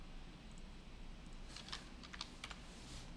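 A computer keyboard is tapped quietly: a few sparse clicks, then a short quick burst of keystrokes near the end, close and faint against a low background hum.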